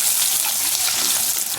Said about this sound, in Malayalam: കുറച്ച് അരിഞ്ഞ് വെച്ചേക്കണ ഇഞ്ചി, വെളുത്തുള്ളി നമുക്ക് നല്ലപോലെ ഇളക്കി കൊടുക്കാം